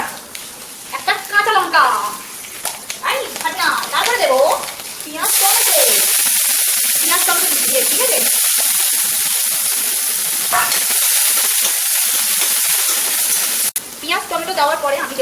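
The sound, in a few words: green chili added to hot oil with panch phoron, sizzling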